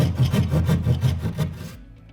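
A hand saw cuts back and forth into drywall for an in-wall safe, giving about eight even rasping strokes, close and steady, before stopping abruptly.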